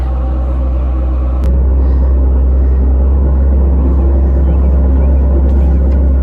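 A farm loader's engine runs steadily throughout, a loud, continuous low rumble with a slight bump in level early on and no talk.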